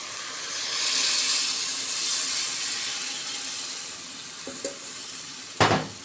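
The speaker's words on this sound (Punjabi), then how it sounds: "ਇਹਨੂੰ ਆਪਾਂ ਚੰਗੀ ਤਰ੍ਹਾਂ ਮਿਕਸ ਕਰ ਲਾਂਗੇ" Gram flour and yogurt batter poured into hot spiced masala for Punjabi kadhi, a steady loud sizzle rising then settling, with a few brief scrapes and a sharp clatter near the end.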